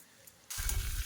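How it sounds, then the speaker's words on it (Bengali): Food dropped into a hot pan for light frying in a home kitchen, silence then an abrupt, loud, steady sizzle that continues to the end. "হালকা করে ভেজে নেব"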